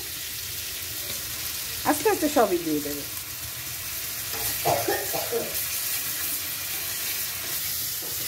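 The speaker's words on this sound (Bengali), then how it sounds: "দেখুন পেঁয়াজ রসুনটা একটু ভাজা হয়ে গেছে" Steady sizzling of onion and garlic frying in a pan with a bright hiss throughout, while a voice speaks briefly over it.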